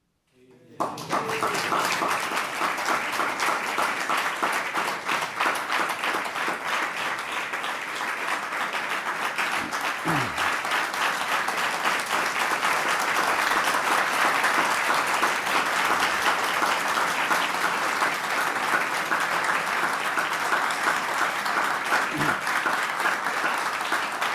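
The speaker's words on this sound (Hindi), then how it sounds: "थोड़ा ताली बजा दी आप लोगों ने तो फिर लेक्चर दे पाऊंगा।" Audience applause after a devotional youth-class lecture in Jaipur: dense, steady clapping from a sizable crowd that starts abruptly and holds at an even, loud level for over twenty seconds without talk.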